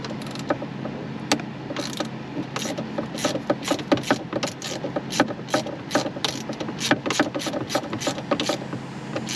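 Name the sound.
quarter-drive ratchet turning T27 bolt on Ram shifter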